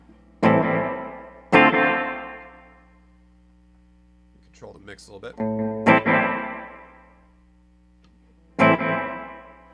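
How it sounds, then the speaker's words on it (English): Guitar tones played through a dual reverb pedal set to a room sound with pre-delay: a few separate plucked notes and chords ringing out with a slightly late reflection, with a short spoken phrase in the middle. "I've got this room sound that has some pre-delay, so you hear that sort of reflection a little later than you hear the dry signal"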